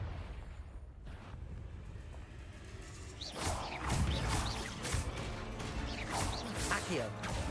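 A Confringo spell explosion erupts in the Hogwarts Legacy video game, with a burst of crashing, whooshing blasts and booming impacts after a quieter start, layered with game effects.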